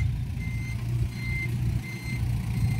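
A backhoe gives steady intermittent reversing beeps in a truck yard, over a low engine rumble, three beeps at an even pace at moderate distance.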